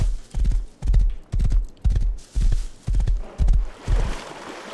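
Rhythmic hoof clip-clops of a horse trotting in the video game Rust, seven evenly spaced heavy beats, close and loud, with no voices.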